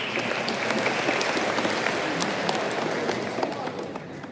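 An audience at a school semester awards ceremony gives a sustained round of dense applause, many hands clapping steadily at even loudness, with faint crowd noise beneath.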